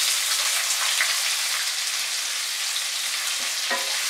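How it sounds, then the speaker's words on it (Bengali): Chopped onions, two medium ones, fry on medium heat in a pan for a cabbage and prawn curry, giving a steady, close, even hiss and crackle throughout with no talking. "মিডিয়াম আঁচে পেঁয়াজটাকে ফ্রাই করব"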